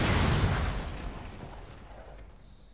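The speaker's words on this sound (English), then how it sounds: "Cool guys don't look at explosions." A breaching charge explosion in the Rainbow Six video game, a loud booming blast that opens the moment and rumbles away into a long fading decay with no talk.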